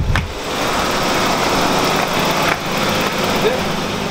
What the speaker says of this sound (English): it sounds like it's the drive line